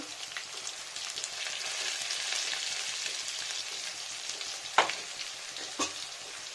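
Chopped onion fries with sugar in oil for a Mrigal fish soup, making a constant bright sizzle with a couple of sharp utensil knocks near the end and no talking.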